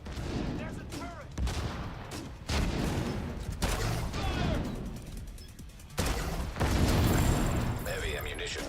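An enemy turret fires in The Division 2, sharp bursts of gunfire repeating throughout amid a dense, loud game firefight with other shots and a voice speaking over it.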